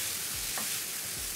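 Meat frying in a pan with stirring, a continuous hiss of sizzling with a few soft scraping strokes, close and moderate in level, without voices.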